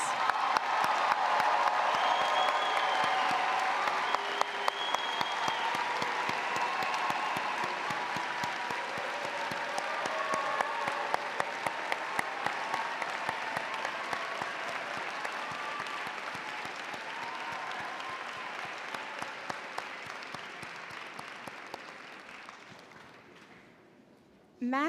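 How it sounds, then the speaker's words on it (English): Audience applause at a University of Maryland College of Education spring graduate commencement for doctoral degree recipients, sustained clapping from a large hall that carries steadily for over twenty seconds before fading out, with voices underneath. "Please join me in a round of applause for our doctoral degree recipients."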